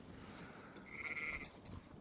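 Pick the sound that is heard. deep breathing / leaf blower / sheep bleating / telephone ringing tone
sheep bleating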